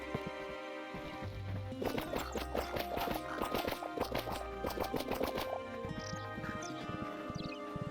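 Rhythmic clip-clop of horse hooves trotting in the video game Whiskerwood Refuge, fairly quiet and mixed with soft ambient tones, with no talking.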